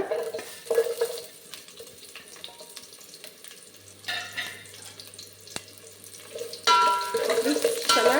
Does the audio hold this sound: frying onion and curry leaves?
yes